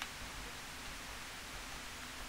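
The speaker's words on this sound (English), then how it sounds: "The white noise is very good on that, though." Steady hiss of white noise from the Commodore 64 game Winter Games fills the whole moment, loud and unbroken with no other sounds.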